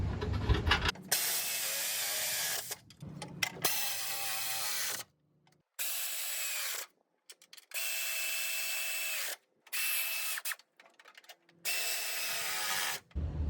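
A 1/2-inch drive ratchet with a swivel tightening 18mm winch mounting bolts on a Jeep Wrangler JL, heard as repeated bursts of rapid clicking separated by short silent pauses, close and fairly loud with no talking.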